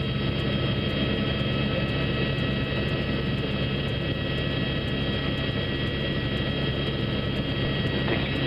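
Aircraft engine drone, a steady loud broadband roar with faint tonal whine, continuous and even throughout with no talking.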